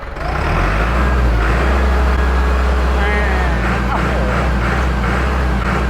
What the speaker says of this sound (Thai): มาฟังเสียงเครื่องที่บอกว่าเครื่องเป็นยังไง ขอเล่นเครื่องให้ดูหน่อยครับ